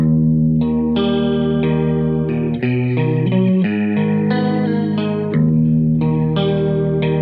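A rock track with a bluesy electric guitar riff plays loud and continuous. The guitar has chorus and distortion effects, with sustained chords shifting every second or so and no talk over it.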